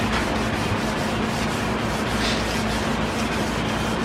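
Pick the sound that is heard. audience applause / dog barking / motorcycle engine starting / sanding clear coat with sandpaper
sanding clear coat with sandpaper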